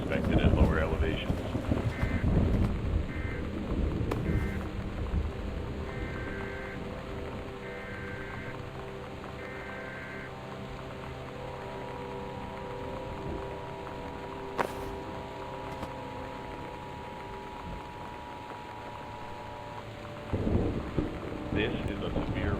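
Thunderstorm and rain in the video game Gone Home: a steady wash of rain with a low rumble of thunder near the start, beneath a repeating tonal warning signal and a sustained hum.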